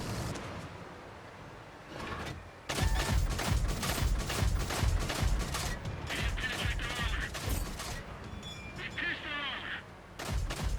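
Tank cannon rounds fire in World of Tanks Modern Armor, a rapid string of loud blasts and crashes over battle rumble, with a few quieter mechanical clanks between shots.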